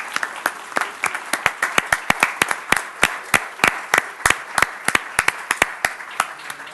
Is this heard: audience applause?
yes